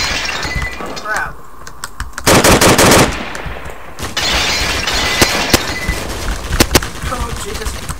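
Gunfire from the Roblox game Tactical Assault sounds as a dense automatic burst that lasts about a second, with scattered sharp single shots and cracks before and after it over a steady noisy game background.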